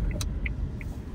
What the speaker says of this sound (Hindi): गाड़ी यार अपनी सीधा घुसाता हूँ बेसमेंट में।